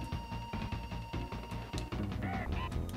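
Birds in Donkey Kong Country squawk in harsh, honking calls over a loud, pulsing game music beat, the squawks clustered near the end.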